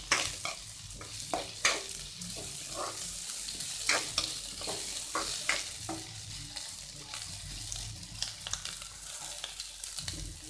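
Onions frying in coconut oil for onion rice, a constant close sizzle punctuated by frequent rhythmic scrapes and knocks of a spatula stirring them in the pan.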